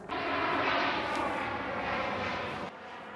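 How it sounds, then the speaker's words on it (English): A propeller airplane drones overhead, a steady broad roar that holds for a few seconds and then cuts off abruptly. "There's an airplane just over us."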